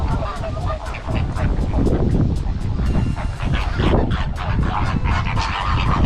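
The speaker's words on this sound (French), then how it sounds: "ce sont le bruit que font les flamants roses" Flamingos in an aviary call continuously in a dense, honking, goose-like chorus, loud and close, with overlapping squawks and some voices mixed in.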